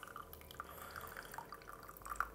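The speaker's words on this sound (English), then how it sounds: "started to do from here was to pour quite aggressively in the center." Water poured quickly into the center of a Hario coffee dripper, a steady, quiet liquid trickle with small splashy drips throughout, close up and without speech.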